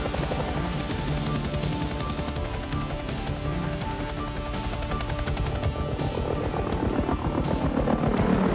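A helicopter flies during a stunt shoot for a cliff-climbing action film, its steady rotor drone holding at a moderate distance and swelling slightly toward the end, with no talk over it.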